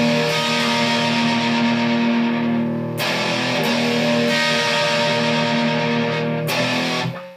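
An electric guitar plays the first half of a verse of a song, ringing distorted chords sustained steadily, with a couple of sharp strum attacks.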